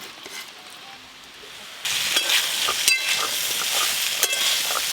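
Mixed vegetables fry in a pan for mixed veg khichuri, a low sizzle that jumps to a loud, steady hiss as they hit the hot oil, with occasional stirring clinks.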